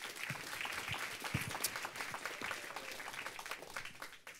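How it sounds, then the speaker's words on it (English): Quiet applause from a film festival kick-off audience, a soft, even patter of many hands heard from a distance throughout, with a few sharper individual claps standing out. "So please give them a round of applause"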